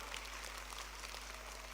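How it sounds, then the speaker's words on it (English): An audience at a young minds programme session in Thiruvananthapuram claps together, a faint, distant, continuous patter of applause over a steady low hum. "Then clap, clap, clap, clap. जोर से ताली बजाओ."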